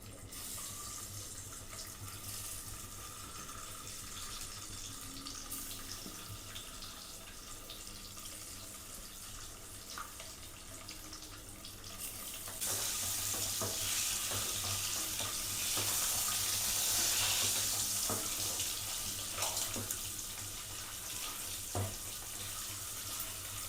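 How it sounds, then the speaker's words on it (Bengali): Eggs dropped into hot oil for a homemade egg curry, a quiet hiss that swells into a louder, brighter sizzle midway and holds steady, with a low background hum. "তো তেলটা আমাদের গরম হয়ে গেছে, এবার ডিমগুলো ছেড়ে দেবো।"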